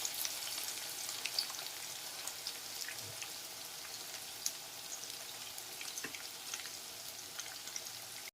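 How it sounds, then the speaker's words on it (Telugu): Egg pieces fry in oil until browning, a soft, even crackle with scattered tiny pops, steady and fairly quiet. "ఇవి బాగా బ్రౌన్ కలర్ వచ్చే వరకు ఫ్రై చేసుకోవాలండి."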